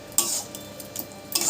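Egg and eggplant stir-fried together in a pan: a few quick spatula scrapes and clinks over a soft sizzle, close and moderately quiet, with no voices.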